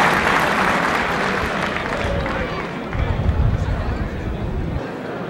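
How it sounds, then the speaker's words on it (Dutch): Spectators applaud a handler and dog pair at a 1997 KNPV police dog trial, broad continuous clapping mixed with crowd murmur and outdoor noise, swelling briefly midway, fairly loud and sustained. "het applaus is voor de combinatie nummer 8"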